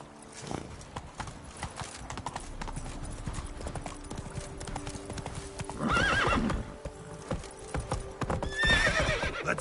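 Horse hooves pound rhythmically at a gallop in The Witcher 3: Wild Hunt, close and continuous, with two loud whinnies breaking in and a brief spoken word near the start.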